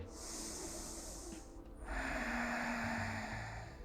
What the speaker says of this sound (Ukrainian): І заключний глибокий вдих.